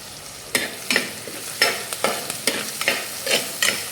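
Curry leaves and green chilies sizzle in a hot pan while being stirred, a constant frying hiss broken by about ten sharp scraping strokes of the spoon at an uneven rhythm, close and without talk.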